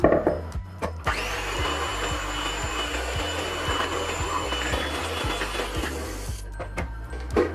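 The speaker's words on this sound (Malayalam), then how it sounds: "എട്ട് മുട്ട എടുത്തിട്ട് നമുക്ക് ബീറ്റ് ചെയ്യാം." An electric mixer beating eight eggs for a pineapple cake runs with a steady loud whir, bracketed by rhythmic knocking of the beaters against the bowl before and after.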